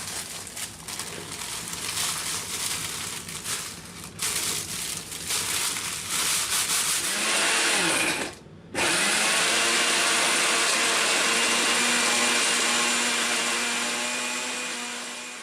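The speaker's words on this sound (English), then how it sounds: "And then finally, I grind them up into bone meal that is also pretty pricey." Dried bones ground into bone meal in a powered grinder, a loud steady motor whir with rattling, pausing briefly near the middle before running on continuously.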